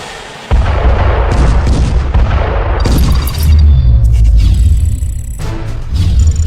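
T-90S Bhishma main battle tank firing, a loud, close boom that rolls into a sustained low rumble of heavy gunfire and engine noise for several seconds.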